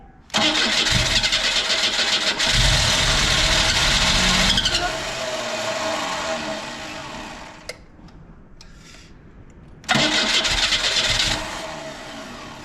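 A car engine cranks with a loud, steady whirring starter drone for several seconds, dips, cuts off into near silence, then cranks again near the end; no voices are heard.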